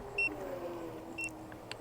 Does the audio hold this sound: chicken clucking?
no